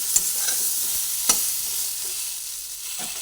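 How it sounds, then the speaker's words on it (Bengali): Salt being stirred into pointed gourd in a frying pan: a soft, steady scraping sizzle with a few sharp spoon clicks against the pan, close and without talk. "নুনটা পুরো পটলের মধ্যে মিশিয়ে দিচ্ছি"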